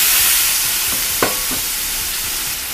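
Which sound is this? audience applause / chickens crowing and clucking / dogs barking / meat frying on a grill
meat frying on a grill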